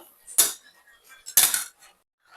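Coconut masala stirred into mutton in a pot, two sharp metallic scrapes of a spoon against the vessel, close and distinct with quiet gaps between.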